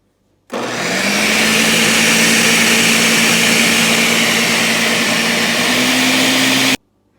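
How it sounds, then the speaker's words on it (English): A blender pureeing carrots with a little water starts abruptly, roars loudly and steadily for about six seconds, then cuts off sharply. "So now we're gonna puree one more time until it's nice and smooth."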